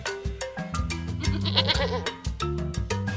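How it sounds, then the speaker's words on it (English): A lamb bleats over upbeat children's music, its wavering cry rising briefly in the middle of a steady melodic backing. "lamb"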